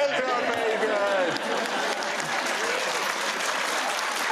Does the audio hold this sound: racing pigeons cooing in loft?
no